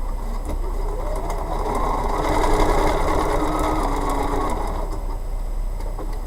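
A sewing machine stitches steadily along a marked line while piecing a bumble bee foundation paper piecing block, a continuous close mechanical whir with no pauses.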